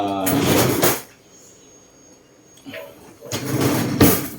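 A drawer slides open with a broad rushing scrape, followed after a quiet pause by a second sliding movement and a soft knock as it shuts.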